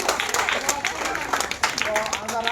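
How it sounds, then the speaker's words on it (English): An audience at a school math quiz for National Mathematics Day claps for the winning team, a dense patter of hand claps mixed with voices. "So clap to them."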